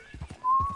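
Horse hooves clip-clopping in the video game Red Dead, a few quick muffled thuds in an uneven gait, then a steady tonal whine rising over the last steps.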